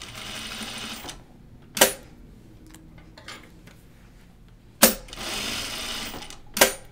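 A sewing machine stitches a caftan in two sustained bursts of whirring, one at the start and one near the end, with a quiet pause between and sharp clicks or clunks in between, close by.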